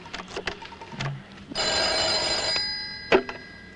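A telephone rings during a call to a doctor, one steady electric bell burst of about a second, fairly close, with clicks and handling noises before and after it.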